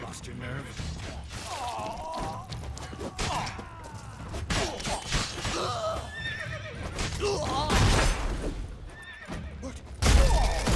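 Horses whinny and neigh several times amid clattering hooves and battle noise in The Witcher 3: Wild Hunt, with shouting voices mixed in.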